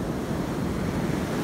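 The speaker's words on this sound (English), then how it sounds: "And now I'm sticking my feet in the ocean water," Ocean surf rolls in at Jacksonville Beach at sunrise, a steady, dense wash of waves with some wind noise on the microphone, continuous and fairly loud.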